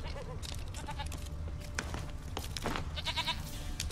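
A goat in The Witcher 3 bleats several times in short, wavering cries, moderately close, over a soft game ambience without talk.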